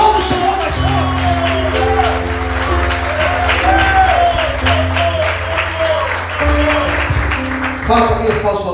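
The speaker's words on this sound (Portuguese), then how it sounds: "Aplauda o Senhor mais forte." A church congregation claps more forcefully during worship, a dense, continuous wash of applause with a few shouts and whoops rising over sustained keyboard chords, staying loud throughout.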